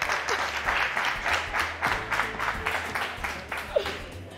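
Studio audience applauding on a morning television show, a steady wash of clapping that carries through the whole stretch with a few louder individual claps standing out near the end.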